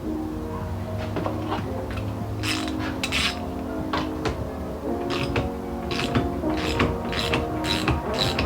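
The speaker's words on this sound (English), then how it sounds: "So now we can pull this gear all the way off." Metal parts of a Toyota 4AGE distributor clink and ratchet as the gear is worked off its shaft, a close, steady run of small mechanical clicks and taps with some tonal ringing, louder toward the end.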